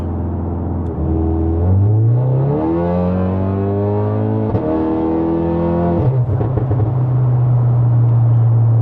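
A Stage 3 tuned Cupra Formentor accelerates hard, its engine note climbing through rising revs with distinct gear changes between pulls, loud and close from inside the car, with no talk.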